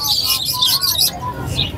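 Birds, likely pigeons, at a Lahore Sunday bird market, bright chirping and cooing over a low murmur of crowd noise, close and fairly loud.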